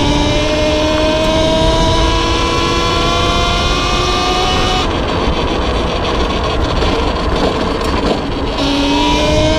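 A Talaria xXx electric dirt bike accelerates while being ridden, its motor whine rising in clear steady tones over loud continuous wind rush, close and sustained throughout with no talking.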